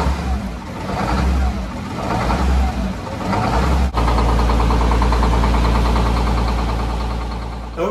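Sport fisher boat engines in an engine room crank and catch at about four seconds, then settle into a loud, steady, deep idle that holds close and constant to the end.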